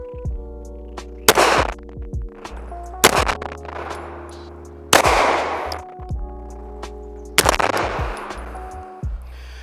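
A SAR USA K12 shotgun fires at a range target about five yards away. Four loud, sharp blasts come a couple of seconds apart, each followed by a brief ringing decay.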